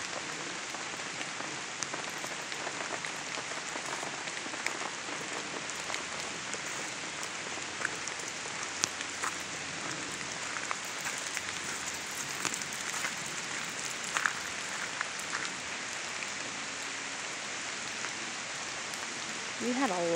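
Steady rain patters down on a surface in Pennsylvania, dense and continuous, with scattered brighter drops standing out over the hiss.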